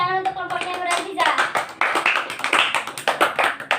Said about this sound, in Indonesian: Tepuk tangan untuk kelompoknya Nur Aziza.